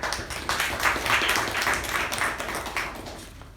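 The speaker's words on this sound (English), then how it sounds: "A round of applause for Sai Snehal and" A small group at a Toastmasters meeting applauds steadily for a few seconds, the clapping close and even before it starts to thin out.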